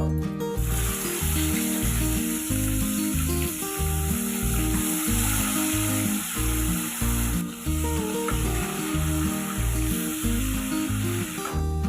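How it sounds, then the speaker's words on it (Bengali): Oil sizzles and crackles steadily throughout as boal fish fry, a constant frying hiss with a rhythmic pulsing tone running underneath. "আর এই একই পদ্ধতিতে আমি বাকি মাছগুলো ভেজে নিব।"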